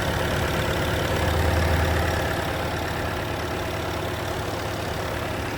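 A 2021 Bobcat T66 skid steer's inline five-cylinder engine idles steadily, a constant low rumble with no change in pitch and no talking.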